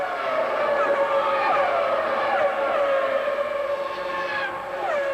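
Formula 1 cars from the 2000 season screaming around a circuit, a continuous high-pitched engine wail with rising and falling pitch as cars pass, loud and steady, no talk.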